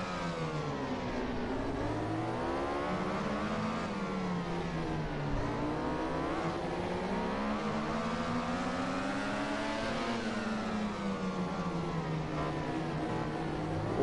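MotoGP racing motorcycles scream in a continuous high-revving drone, the engine pitch sweeping up and down with gear changes and corners, steady and moderately loud throughout.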